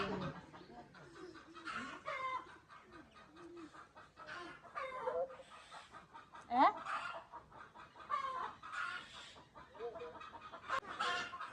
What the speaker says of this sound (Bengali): দেশি মুরগি মনে হয়